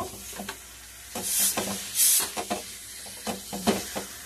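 Boiled, salted potatoes fry in a pan, with scraping stir strokes at irregular intervals over a soft background sizzle and a few louder hissing bursts.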